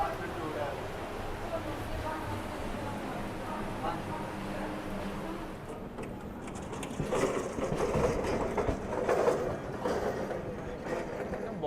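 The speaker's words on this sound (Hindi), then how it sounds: "आज आप लोग फील ले लीजिए कि गार्ड साहब को कैसा दिखता होगा जब ट्रेन किसी स्टेशन से छूटती है।" A Vistadome glass-roofed train pulls away from Visakhapatnam station, its engine and wheels making a steady rumbling drone that swells in the second half, with voices over it.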